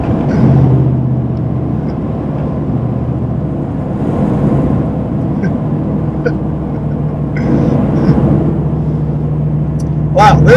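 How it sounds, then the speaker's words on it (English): A modded Ford F150 truck accelerates hard from a 65 mph roll start with its rear tires breaking loose. A loud sustained engine drone and road rumble run throughout, heard from inside the cab. "when I mashed the throttle, the back tires did break loose."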